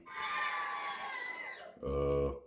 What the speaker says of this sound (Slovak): ako teda nejaký výkrik, klasickú trúbu a nejaký potlesk